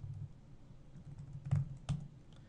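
Keys clack on a computer keyboard as a command is typed, a few quiet close taps with two sharper strokes near the end, against a low background hum.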